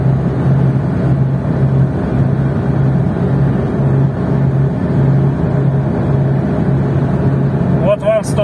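Lada Niva Travel engine held at full throttle around 140 km/h, a steady loud droning hum with a low tonal whine throughout, continuous cabin noise with no breaks.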